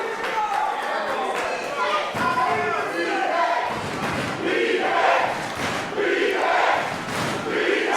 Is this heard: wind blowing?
no